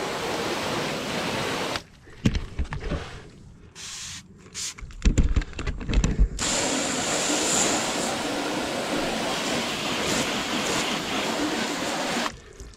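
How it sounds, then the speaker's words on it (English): A hose rinses Turtle Wax Dry & Shine rinse wax off a car with a loud, close, steady hiss of spraying water. Several short interruptions and uneven spattering come early before the spray settles into a continuous rush. "Rinse it off."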